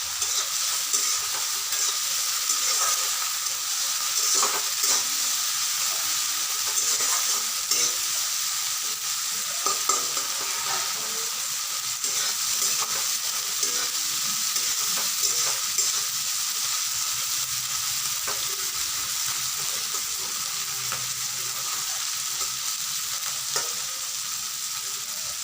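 Chopped bottle gourd stirs and fries in a pan for a prawn curry, with a constant bright sizzle and repeated scraping of a spatula at close range, steady over a long stretch with no talking.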